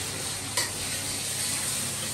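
Chicken being stir-fried in a wok, a steady close sizzle with a brief scrape of the spatula early on.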